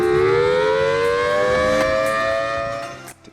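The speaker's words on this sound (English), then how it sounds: "From tornado sirens" Loud tornado warning siren at an Arizona airfield, a steady wailing multi-tone howl that holds for about three seconds before cutting off abruptly.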